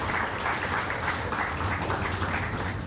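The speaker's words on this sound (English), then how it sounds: "I request all of you to join me to appreciate with a round of huge applause" Audience applause at a lecture meeting on chartered accountancy exams, a steady patter of many hands clapping with a faint low hum beneath, continuous for a few seconds.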